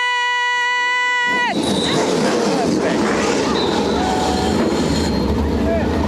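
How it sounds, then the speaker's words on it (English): EuroNASCAR Pro race car engines starting at the NASCAR GP Germany 2024, a loud roar of many engines bursting in together after a sustained musical tone and holding as a dense, rumbling field. "Drivers, start your engine!"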